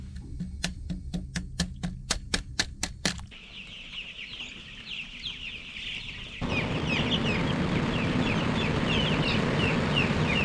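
Chickens clucking and calling inside a warm poultry house, a busy flock heard steadily throughout, with a sharp rhythmic series of metallic clicks at the start and a louder, fuller murmur of birds later on.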